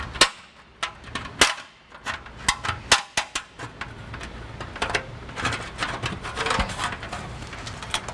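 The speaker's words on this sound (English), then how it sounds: "I'm going to use tin snips to remove just this piece of the heat shield" Tin snips bite through a metal heat shield on a 2019 Chevrolet Cruze, a string of sharp, close snapping clicks in irregular rhythm, loud at first and then quicker and softer.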